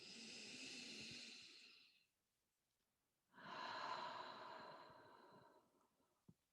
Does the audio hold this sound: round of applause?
no